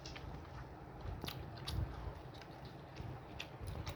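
Someone chews a mouthful of vegan biryani with potato and paneer, giving soft, close, wet munching and small crunchy bites in an irregular rhythm, faint and steady with no talk.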